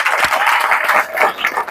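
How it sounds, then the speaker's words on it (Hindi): A seminar audience in Faridabad applauds, a dense crackle of many hands clapping together, loud and steady for a couple of seconds. "बातचीत शुरू करते हैं, एक बार ताली बजा दीजिए।"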